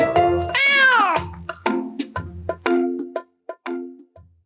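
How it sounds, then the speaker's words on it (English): A cartoon cat in a children's story meows loudly and close up, first with one long, drawn-out meow, then with a quick run of shorter meows. "A big scary cat."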